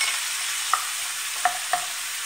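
Crushed garlic and cumin sauté over medium heat in a pan, giving a steady, even sizzle broken by three faint clicks of stirring, with no talk.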